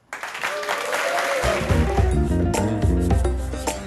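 Applause from a quiz game show audience swells at the close of a round, and a loud musical sting with deep bass enters partway through and plays over the clapping.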